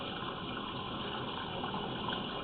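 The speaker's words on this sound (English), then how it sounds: "We're going to let the water run down a little bit more." Water gushes steadily from the opening of a pipe, a continuous, even rushing and splashing with no pauses or voices.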